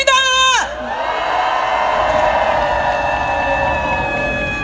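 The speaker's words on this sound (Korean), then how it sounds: "대전 민주시민들의 힘찬 함성과 박수로" A rally crowd at an outdoor citizens' rally in Daejeon cheers and applauds in a broad, sustained roar after a brief tonal call at the start, staying loud and dense throughout.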